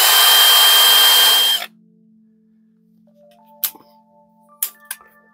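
A Bosch GSB 12V-30 cordless drill runs with a loud, steady whine for under two seconds and then cuts off, followed by a faint hum and a few light clicks and clinks.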